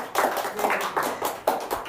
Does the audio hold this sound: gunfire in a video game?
no